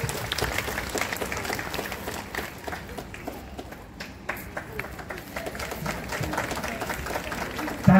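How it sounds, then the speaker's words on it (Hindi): An audience at a parish youth event gives sustained, loud applause for the mothers, a dense wash of clapping that lasts throughout, with crowd voices mixed in. "तो जोरदार ताली हो जाए सभी मम्मियों के लिए।"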